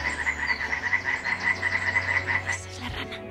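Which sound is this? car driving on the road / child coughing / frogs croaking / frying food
frogs croaking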